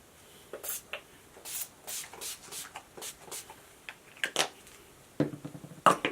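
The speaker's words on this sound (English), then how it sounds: "to set my face, I'm going to be using the Urban Decay Makeup Setting Spray" Urban Decay oil-control makeup setting spray is misted onto a face in a series of short, close, breathy spritzes mixed with soft rubbing and handling noises, with no talking.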